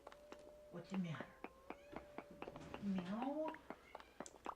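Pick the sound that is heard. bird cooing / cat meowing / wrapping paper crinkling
cat meowing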